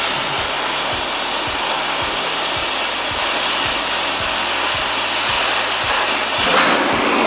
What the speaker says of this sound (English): we are going to show the oxygen acetylene torch